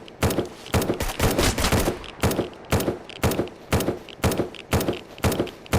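Automatic turret gunfire in the video game SurrounDead, loud and close, coming in regular short bursts of rapid shots roughly every half second to second with no talking over it.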